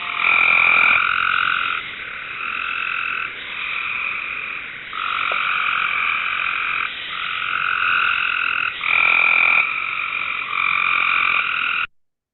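A tree frog sings its breeding call: a harsh, musical trill repeated in several long, loud bursts with brief gaps, close by and alone, ending abruptly.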